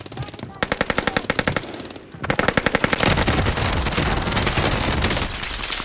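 Bursts of automatic gunfire in the video game Warzone, loud and close, with rapid rattling volleys that break off briefly and then return in a dense, sustained stream of shots.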